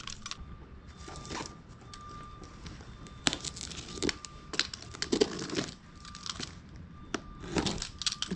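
Plastic packaging around a Softopper for a 3rd Gen Toyota Tacoma is cut open and pulled out, producing close, intermittent crinkling, tearing and rustling bursts with a few sharp cracks between quieter pauses.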